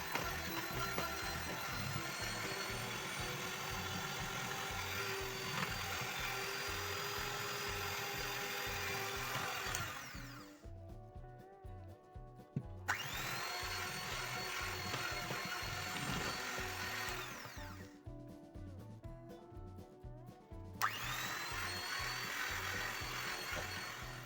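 Electric mixer whirring steadily through shortbread cookie dough, a loud continuous motor drone with a gritty rhythmic texture, cutting out briefly twice before starting again.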